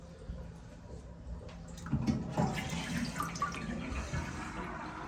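Water drains fast from a food truck's three-compartment sink fitted with a vent after the trap. It makes a steady, soft rushing and gurgling that swells partway through, quiet and close, with no talking.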